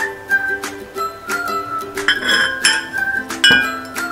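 A spoon clinks repeatedly against a glass while lemon juice is stirred, producing bright, ringing taps in an uneven, steady rhythm, close and loud.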